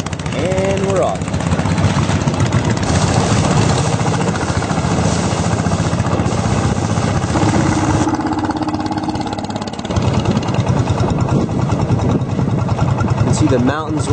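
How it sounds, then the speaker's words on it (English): A boat engine on an Inle Lake tour in Myanmar drones steadily and loudly from start to finish, a close, constant mechanical hum. "Just fired up the engine. And we're off."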